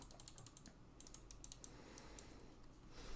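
Right-button clicks of a computer mouse with KLGM 8.0 switches, a run of bright close taps, then a pause and a few more sparse clicks, soft and alone in a quiet room.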